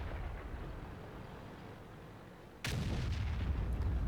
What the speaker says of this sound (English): Jagdpanzer E100 snaps another shot and takes out the M103